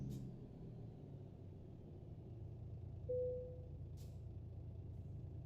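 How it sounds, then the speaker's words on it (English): Truck air brakes in American Truck Simulator, a short sharp pneumatic hiss and release over the steady low rumble of an idling engine, with a brief tone partway through. "Release brakes while on scales."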